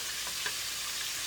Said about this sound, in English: we want to saute this a little bit so it can saute down